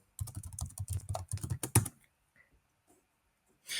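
A prompt is tapped out on a computer keyboard for Microsoft Copilot, a rapid close run of key clicks for about two seconds, then near silence.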